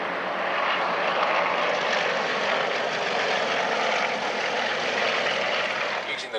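Three Yak-50 aerobatic aeroplanes trailing smoke on a chevron formation pass, their propeller engines giving a steady, loud, broadband drone that holds evenly throughout.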